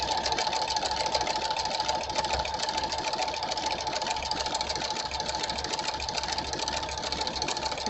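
A sewing machine hums continuously, stitching fabric scraps in one steady, close, unbroken run with a constant mechanical whir.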